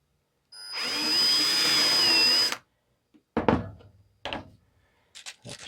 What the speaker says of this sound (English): it's easier to pre-drill these.